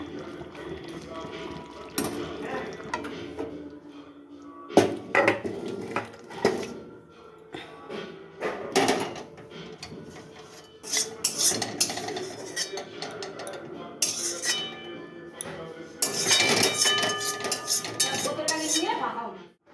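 Pots and utensils clatter and clink at a home stove as a cooked Bengali fish dish is taken off the heat, with scraping, metallic knocks and occasional liquid sounds, while someone talks over the kitchen noise.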